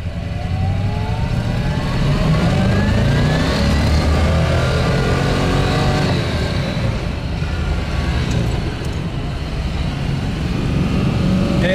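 A 1963 fuel-injected Corvette engine climbs in first gear toward 90% of redline, the loud revving rising steadily in pitch, then holding a sustained high roar close to the car.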